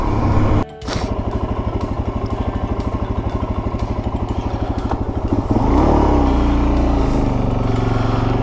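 A Suzuki DRZ400 dual sport motorcycle idles with a close, even single-cylinder thump, then revs up and pulls away into a louder, rising engine note as riding begins.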